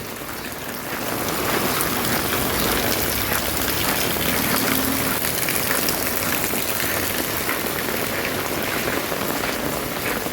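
Heavy rain from Cyclone Remal pouring onto a street, a dense, loud, continuous hiss of drops hitting wet pavement and surfaces, steady throughout.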